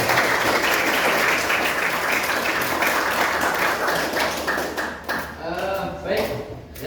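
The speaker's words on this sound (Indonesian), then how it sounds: "tepuk tangan teman-teman" Loud, sustained applause from participants at an Indonesian teacher training session on learning styles, a thick wash of clapping that fades near the end as a voice begins speaking.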